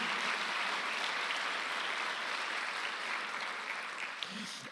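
Steady applause from a church congregation, broad and continuous, holding at an even level for several seconds.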